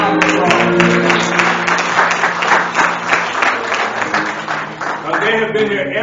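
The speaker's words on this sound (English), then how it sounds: "Just give them a round of applause." Church congregation applauding its trustees at a Youth Day service, a dense sustained round of clapping from a large crowd with music underneath, steady and loud throughout.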